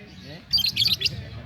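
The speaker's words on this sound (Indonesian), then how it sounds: "Burung jalak." A caged jalak (starling) at a bird contest chirps in quick bright bursts of several notes, close and loud, while people talk in the background.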